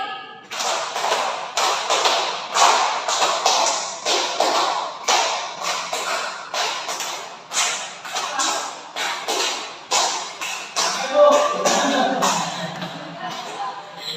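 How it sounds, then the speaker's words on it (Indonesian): A class of students keeps clapping together in a long run of brisk, evenly spaced group claps during a micro-teaching lesson, close and fairly loud, with talk in the room near the end. "tepuk 5 kali."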